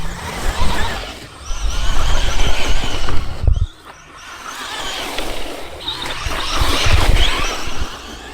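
An ARA Vorteks RC truck driving over mulch, its electric motor whining in loud bursts that surge and drop, with a brief pause midway before it revs up again close by.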